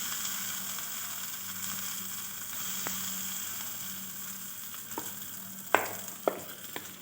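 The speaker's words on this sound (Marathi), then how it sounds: "थोडी मिरची आपण ह्यामध्ये गरम तेलामध्ये तडका देऊन टाकूया" Chilli and garlic paste tempered in hot oil, a steady sizzle that holds throughout, with a few sharp clicks and taps of a spoon near the end, close and without speech.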